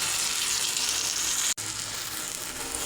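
Close, steady sizzling of spice masala frying for duck curry, with coriander powder, Kashmiri chili powder and water in the pan. The hissing breaks off sharply for an instant midway, then carries on, with no talking.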